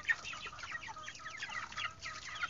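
Broiler chickens about 45 days old cluck while being bathed in hot weather, giving soft, overlapping clucks and chatter from several birds nearby at a steady low level.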